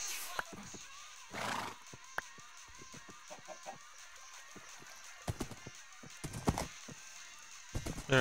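A horse gives a clear whinny early on, followed by sparse knocks, clicks and small movement sounds at close range.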